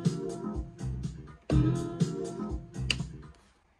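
House music sample sped up to about 122 BPM, a dense loop of rhythmic chopped hits and tonal layers playing alone at steady, moderate loudness.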